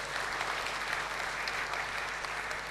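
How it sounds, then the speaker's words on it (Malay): Steady, dense applause from a crowd, clapping continuously at an even level throughout with no voices standing out. "Berikan satu tepukan yang gemuruh untuk diri anda sendiri."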